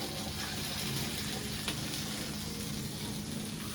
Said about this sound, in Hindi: अब अम्मी और मिर्चों को कर रही हैं फ्राई तवे पे